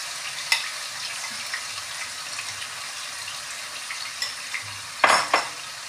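Marinated boneless chicken fries on a low flame with a soft, steady sizzle, broken by a few light utensil clicks and a brief clatter of a spatula against the pan near the end.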